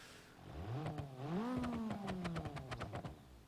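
A damaged rally car in BeamNG Drive, its drive shaft and wing torn off, keeps its engine running, rising in a rough rev and then settling into a stuttering idle punctuated by crackling pops and backfires, close and fairly loud, with no voices.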